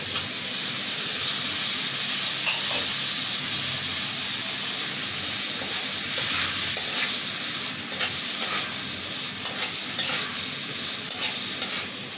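Onions fried with spices in a pan hiss in a continuous loud sizzle, with occasional spoon stirs and scrapes breaking through the steady frying noise.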